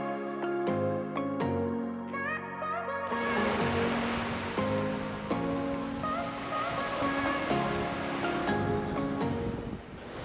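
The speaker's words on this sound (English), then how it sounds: "you walk out to this beautiful beach by the Sapphire Beach Resort" Surf washing onto Sapphire Beach in St. Thomas, US Virgin Islands, heard as a steady broad rush of waves that swells after a few seconds, with music playing throughout.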